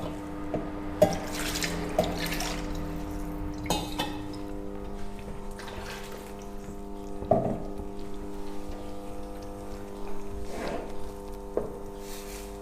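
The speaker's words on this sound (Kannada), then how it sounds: "ಸ್ವಲ್ಪ ನೀರು ಸೇರಿಸ್ಕೊಳ್ಳೋಣ. ಎಷ್ಟು ಬೇಕೋ ಅಷ್ಟು ನೀರನ್ನ ಈಗಲೇ ಸೇರಿಸ್ಕೊಂಬಿಡಿ." Water is poured into a pot of bangda (mackerel) fish sambar, giving soft splashing and trickling with occasional small clinks, moderately quiet and without talk.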